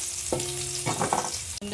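Chopped onion hits a pan of sautéing garlic with a sharp burst of sizzling, followed by stirring scrapes and crackling oil over a short stretch.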